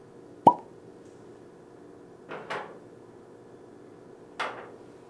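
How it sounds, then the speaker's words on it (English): A cork pops from a bottle of Angel's Envy bourbon in one sharp, close pop, followed by two softer knocks a couple of seconds apart, with no talk over it. "Go ahead and pop the cork."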